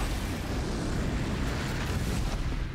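A fire-spitting machine creature in Horizon Zero Dawn lets out a steady, roaring blast of flame, a dense, loud rushing whoosh that holds without a break for a few seconds.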